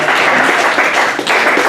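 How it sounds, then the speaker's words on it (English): An audience at a retirement party claps and applauds in a dense, steady burst of hand claps, loud and close, lasting the whole short moment. "Please give a hand of applause."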